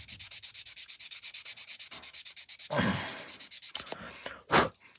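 Quick, regular rubbing strokes as decals are worn off an Airfix Concorde model kit, close and fairly quiet, broken near the end by a few louder scuffs and knocks.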